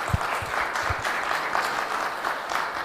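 An audience at a tech conference hall applauds a speaker being introduced, a dense, continuous roar of many hands clapping at steady loudness with a few low thumps early on.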